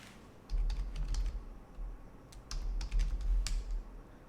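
Typing commands in a PowerShell command line on a computer keyboard: a quick, irregular run of close key clicks in short bursts, with low rumbling background between them and no talking.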